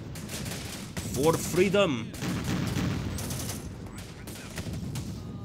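Gunfire from sniper teams in the video game Syrian Warfare crackles as a steady bed of distant shots and battle noise, under a brief spoken line.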